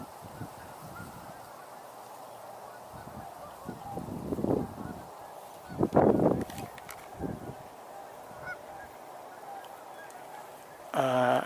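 Canada geese honk outdoors among other waterfowl on a lake, with several bursts of honking calls, the loudest in the middle, over steady ambient noise.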